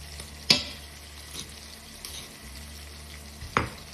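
Ginger garlic paste sizzles softly in a pan with a low, steady fry. Two sharp clanks of a spoon against the pan break through, one early and one near the end, with no talking.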